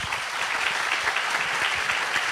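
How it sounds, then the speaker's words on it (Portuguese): A church congregation at a special Bible Day service applauds steadily, a dense, even wash of clapping heard alone at moderate volume. "Essa daí eu não precisei nem pedir aplauso."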